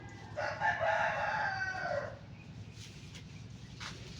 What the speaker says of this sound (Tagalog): May naglakaw-lakaw na manok.